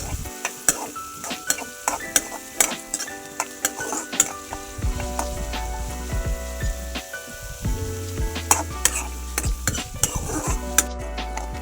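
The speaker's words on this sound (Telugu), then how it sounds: "ఆనియన్స్ వేసి బాగా కొద్దిగా వేయించాలి." Onions fry in a hot pan with steady loud sizzling, while a metal spoon stirs and scrapes against the pan in frequent sharp clinks throughout.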